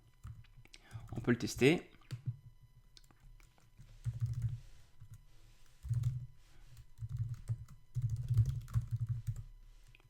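Typing on a computer keyboard comes in soft clustered bursts of key taps, fairly close but quiet, while someone speaks briefly during one of the pauses.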